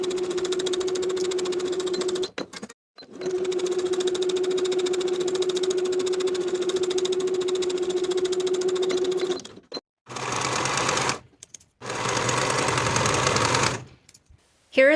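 Sewing machine stitching the side and shoulder seams of a dress, humming steadily in long runs and broken by short pauses, then a few quicker bursts near the end; close and fairly loud.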